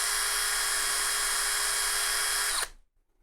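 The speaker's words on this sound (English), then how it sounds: "The deburr tool works, but it skips around a lot." Deburring tool spun on a hole in a PC case: a loud, sustained high-pitched drill whine with a faint chattering edge, cutting off abruptly near the end into silence.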